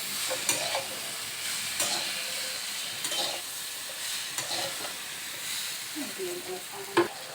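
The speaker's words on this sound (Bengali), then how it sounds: "ভালো করে নাড়াচাড়া করে নিতে হবে" Prawns and pumpkin frying in a pan for a Bengali ghonto, stirred by hand, giving a steady low sizzle with scraping strokes against the pan at a slow, uneven rhythm; no voices.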